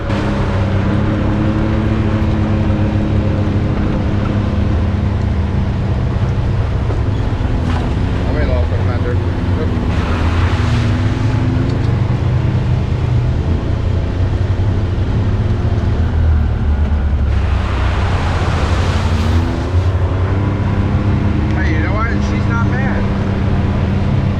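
Can-Am and Honda off-road vehicles ride a trail at the Anthracite Outdoor Adventure Area, engines droning steadily and loud throughout, with wind buffeting the microphone, bursts of rushing noise, and voices talking over the engine hum.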